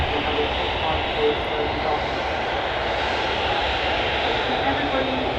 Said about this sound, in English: The aircraft today, which you can see now taxiing in front of us